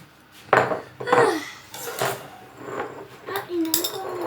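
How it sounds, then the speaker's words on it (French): Glass jars being filled with elderberry wine using a ladle, with clinks and knocks of the ladle against the jars and pot and liquid pouring, while a person talks nearby. "on va prendre une louche et on va les remplir"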